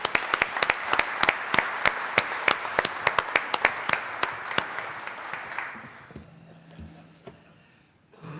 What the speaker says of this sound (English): Could we please give him a round of applause?